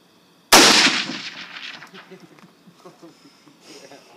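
A single loud, sharp gunshot fired outdoors close by cracks out and then rings away in a long, fading echo while people talk over the tail.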